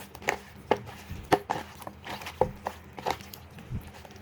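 Chicken pieces are mixed by hand with salt and soy sauce. Irregular wet slaps and squishes come at close range, each short and fairly soft, with brief pauses between them.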